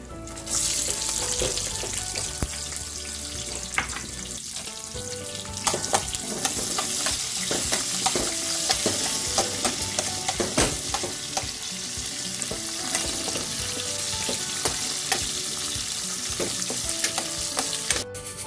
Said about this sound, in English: Curry leaves, the dried red chili, and the sliced onion.